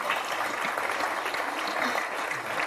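Dense, continuous applause fills a conference hall, a broad wash of many hands clapping at once, steady and moderately loud throughout.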